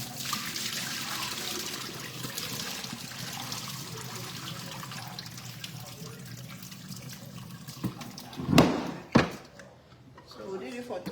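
Hot water runs steadily from a kitchen tap while beef strips are rinsed under it, with a constant splashing hiss, a speaker talking over it, and a couple of louder clunks near the end as the flow changes.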